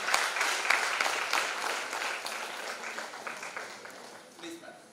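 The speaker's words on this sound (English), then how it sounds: "A big round of applause." Audience applause at a day-two session of an IEEE international engineering conference in Shivamogga, a dense, steady wash of many hands clapping that slowly thins and fades over five seconds, with faint voices in the hall.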